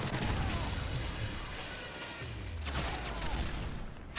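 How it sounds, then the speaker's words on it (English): Dense, continuous explosions and gunfire roar from a Call of Duty Team Deathmatch match, loud and unbroken with heavy low rumble throughout. "So much explosions."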